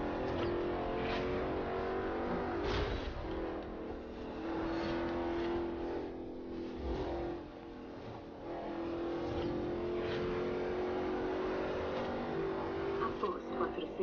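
A Saleen S7 supercar engine revs and drones while driving in Forza Horizon, a steady, fairly loud hum that rises and falls, with someone talking over it.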